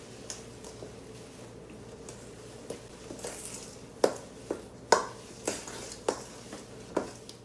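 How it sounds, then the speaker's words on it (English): Garlic being stirred into a herbal goat wormer mixture, a spoon knocking and scraping against the container in a dozen or so sharp, close clicks that grow more frequent toward the end over a quiet background. "now I put the garlic in there, and I'm going to stir this up."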